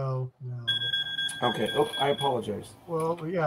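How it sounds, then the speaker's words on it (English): An alarm goes off in the background, its steady high electronic tone sounding through people talking in a casual review discussion. "That's my alarm"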